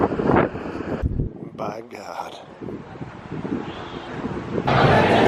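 Strong wind buffets the microphone outdoors amid a crowd outside Full Sail University, with heavy low rumbling gusts throughout and a voice exclaiming briefly in the middle.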